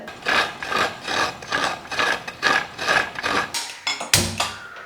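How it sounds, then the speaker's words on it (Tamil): Fresh coconut is grated by hand in a kitchen, a close, steady series of rhythmic rasping strokes about two per second, ending with a sharper knock as the shell is handled. "தேங்காய் உடச்சி திருவி எடுத்துகிட்டு வந்துடுறேன்"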